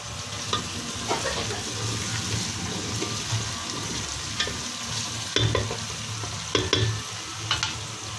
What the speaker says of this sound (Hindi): हम इसकी बुनाई कर रहे हैं आलू की